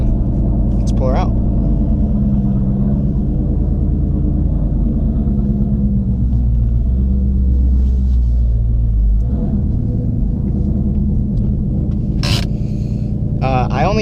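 A 2019 Mustang GT Premium with a 6-speed manual and Corsa Xtreme cat-back exhaust pulls away, its deep exhaust rumble steady and loud beneath someone talking throughout.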